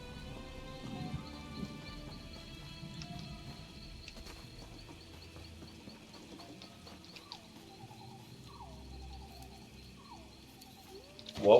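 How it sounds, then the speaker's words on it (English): Elder Scrolls Online weather plays at low volume, with a soft wash of rain and scattered ambient chirps. A sudden loud thunder crack bursts out at the very end. "What was with that loud-ass lightning?"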